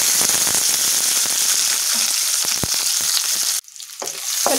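Capsicum frying in a little hot oil in a kadai, with a loud, continuous sizzle and crackle and occasional stirring clatter, then a brief drop in sound before the sizzle returns.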